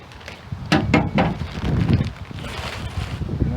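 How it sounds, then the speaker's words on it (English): Gusty outdoor wind buffets the microphone beside a Chevrolet Silverado pickup's tailgate, a steady rough rumble that swells in a few stronger gusts, with some light knocks, all close and fairly loud. "the wind's blowing today"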